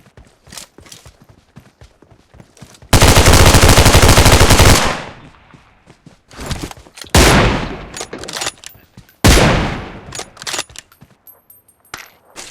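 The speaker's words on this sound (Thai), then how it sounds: "ที่มันยิงตุ้มตั้มตุ้มตั้มมานะ" Gunfire in the mobile battle royale game PUBG Mobile: a long, loud sustained automatic burst, then two more heavy bursts separated by quieter scattered single shots and faint clicks, no talk.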